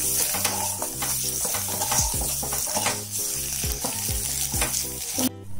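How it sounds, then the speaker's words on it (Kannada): Boiled, cut eggs frying in oil in a pan over a low flame, with a steady sizzle under a looping musical backing and occasional stirring scrapes, ending abruptly. "ಸ್ವಲ್ಪ ಲೋ ಫ್ಲೇಮಲ್ಲಿ ಇದು ಫ್ರೈ ಮಾಡ್ಕೋಬೇಕು."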